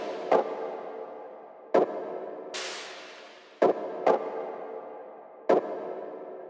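Synth stab sound transposed three semitones up in a techno track, sounding as short sharp hits with decaying tails, repeating at irregular intervals, with a swelling noise sweep in between.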